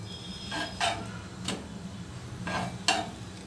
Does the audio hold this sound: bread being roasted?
yes